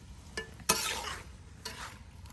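Tomatoes and eggplant tumble into a pan of sizzling spice paste for a village-style boal fish curry, giving two bursts of frying hiss with a soft stir and clatter between them.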